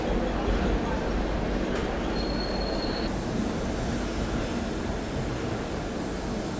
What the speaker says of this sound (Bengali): খড়গপুরের 8 নম্বর প্ল্যাটফর্ম ছেড়ে যাচ্ছে ট্রেন আমাদের